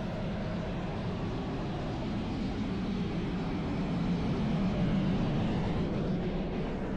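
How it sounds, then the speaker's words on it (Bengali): The Darjeeling toy train's steam engine entering the Batasia Loop makes a steady low rumble that swells slightly louder toward the end, with no voices over it. "সো এই বাতাসিয়া লুপে ঢুকছে এটি আপনার স্টিম ইঞ্জিন।"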